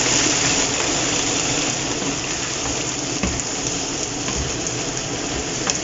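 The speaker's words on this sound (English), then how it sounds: "Listen to that sizzle." Chicken breasts sizzle hard in a hot pan just after a glass of white wine is poured over them, giving a loud, continuous hiss and crackle like rushing water with a few sharper pops.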